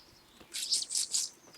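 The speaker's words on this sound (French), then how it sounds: "Par le chant des oiseaux." Birdsong in the video game Kingdom Come: Deliverance: a small bird gives four quick, bright chirps in a row, fairly close, over a quiet background.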